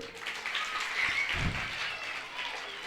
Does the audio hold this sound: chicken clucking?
no